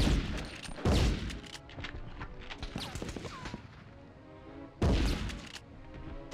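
Gunfire in the Medal of Honor video game, a World War II shooter: loud bursts and rapid shots cluster in the opening seconds. Scattered cracks follow, then one more heavy blast near the end.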